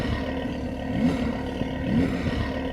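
A Porsche 911 engine drones deep and rumbling steadily at close range, swelling slightly twice as the revs rise and fall.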